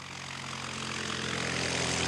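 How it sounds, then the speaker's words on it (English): A 1909 Curtiss Pusher airplane with a 60-horsepower engine runs with its propeller turning, giving a loud, continuous droning roar that swells slightly over a couple of seconds. "In 1909, this Curtiss Pusher was the fastest airplane in the world."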